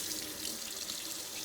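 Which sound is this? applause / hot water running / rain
hot water running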